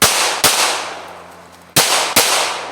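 .22 handgun shots at an outdoor shooting range: four sharp, loud reports in two closely spaced pairs, each with a lingering decay, and no talk.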